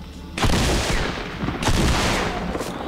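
Weapon fire in the video game Fortnite, two loud sustained bursts of rapid gunshots close up, separated by a short gap.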